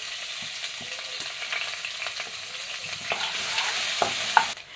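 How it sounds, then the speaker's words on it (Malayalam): Chopped onion dropped onto chillies frying in a pan, a steady close sizzle with scattered scraping stirs and small clicks, no voices. "ഒരു സവാള കട്ട് ചെയ്തിട്ട് കൊടുക്കാം."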